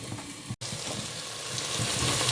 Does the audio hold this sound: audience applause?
no